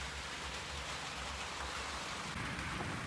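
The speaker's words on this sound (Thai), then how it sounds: "ฝนตกลินเลยตอนนี้" Rain pours steadily outside a rural house during the sixth-month wet season, a dense, continuous hiss of heavy downpour close by with no talking.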